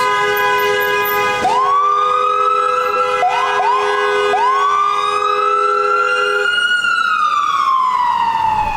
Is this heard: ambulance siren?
yes